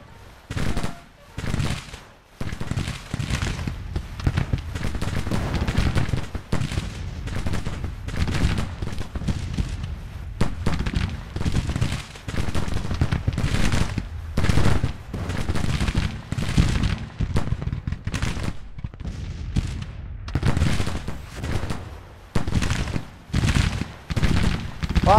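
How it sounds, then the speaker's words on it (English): Rapid Civil War musket volleys, many sharp cracking shots fired in ragged bursts with brief pauses between, loud and close throughout. "Down, brace for the volley."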